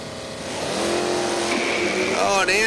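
A 1969 Camaro convertible with a 350 engine and two-barrel carburetor, stock automatic, drag racing at a dragstrip; a loud engine roar builds and holds steady under an announcer's voice.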